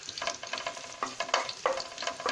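Mushrooms sauté in garlic and oil in a home kitchen pan with a steady close sizzle, broken by repeated scraping stirs of a utensil.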